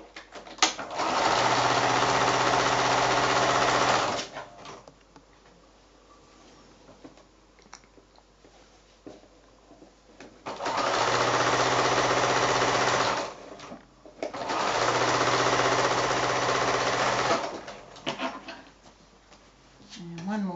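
A sewing machine stitching rows of a Shoo-Fly quilt block made from 5-inch squares, running in three loud, steady whirring bursts separated by quieter pauses with handling noise.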